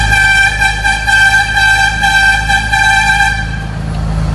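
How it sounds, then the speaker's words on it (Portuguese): A truck's air horn blares loud and continuous inside a tunnel, held for about three and a half seconds before easing off over a deep engine rumble. "Eu gosto de buzinar dentro dos túneis assim, ó."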